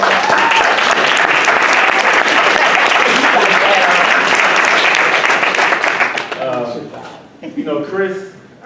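A room full of people applauds the panelists at a forum on the drug war and surveillance, dense clapping that holds for about six seconds, then thins out as a voice begins talking over the tail end.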